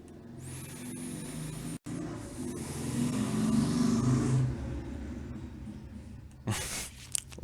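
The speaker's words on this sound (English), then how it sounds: "Loud ass motorcycle in the background." A motorcycle engine drones steadily in the background, swelling slightly as it passes, then a sharper burst of noise follows near the end.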